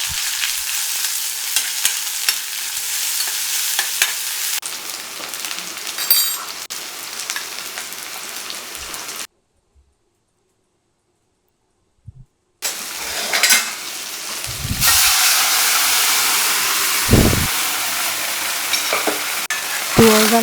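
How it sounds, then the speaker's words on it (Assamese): Mutton sizzles and fries in a pan while being stirred, with steady hissing, scraping and clinks of a utensil against the metal; the sound drops out for a few seconds, then returns with louder bursts of sizzle. "এতিয়া মই মটন ফ্ৰাই কৰি আছোঁ"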